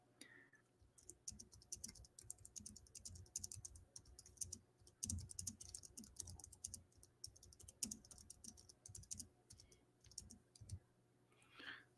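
Fast, irregular typing on a computer keyboard, with bursts of keystroke clicks and brief pauses, close by and fairly quiet, with no talking.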